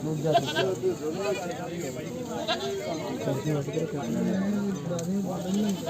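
Barbari goats at a livestock market in Surewala bleating repeatedly near and far, wavering cries rising and falling over a busy background of people chattering and haggling.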